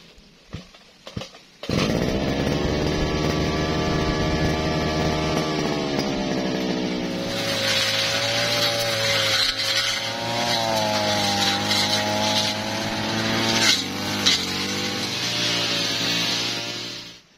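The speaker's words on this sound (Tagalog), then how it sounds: "So ayan, magagrass cutter na po ako." After a few clicks and knocks, a handheld grass cutter starts up in a vegetable field being cleared for eggplant and tomato planting. Its loud, close motor whines steadily for about fifteen seconds, and its pitch shifts as the load changes before it cuts off.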